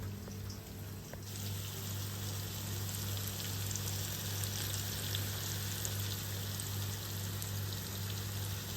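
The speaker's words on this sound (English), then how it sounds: "The oil's just sizzling away." Oil sizzles and crackles steadily as sweet potato fries cook in a pan, a constant close hiss with small pops over a low hum and no voices.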